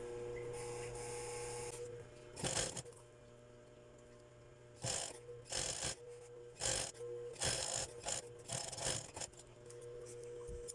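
A sewing machine stitches the sides of a fabric bag made from a dress, coming in several short, loud whirring bursts separated by pauses over a steady low hum.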